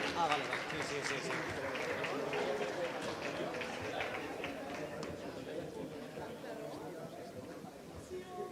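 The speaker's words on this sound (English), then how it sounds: "All big applause to all three." An audience at a summit stage event applauds the three teams with sustained, even clapping, blended with crowd chatter and a voice speaking over it.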